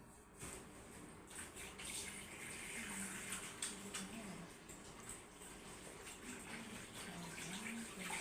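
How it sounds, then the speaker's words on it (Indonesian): Hands are washed under running tap water, a steady close splash with rubbing and shifting flow throughout, with faint low voices in the background. "saya cuci tangan dulu ya Ibu."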